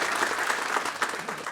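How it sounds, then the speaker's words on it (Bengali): Applause from the audience at a bank opening, steady and dense clapping from a crowd throughout, fairly near and loud. "একটা করতালি দিতে চাই এই জন্য।"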